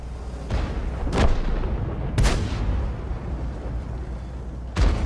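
Tank cannon shots in World of Tanks, three sharp booming reports spaced a second or two apart over a steady low rumble of engine and battlefield noise, no talking.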